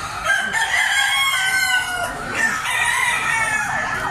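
Sweater breed gamefowl roosters crow repeatedly and close by, overlapping crows with some clucking at a fowl sale.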